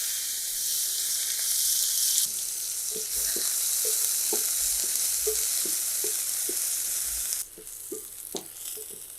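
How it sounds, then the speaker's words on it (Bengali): Onions fry in a pan with a loud, steady sizzle while they are stirred in soft, regular scrapes, close by and without voices; near the end the hiss drops somewhat. "পেঁয়াজ দিয়ে দিলাম।"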